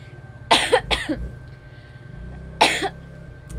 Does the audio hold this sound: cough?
yes